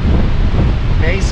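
Strong wind buffets the microphone on a motorcycle trip, a loud continuous low roar with a voice beginning briefly near the end.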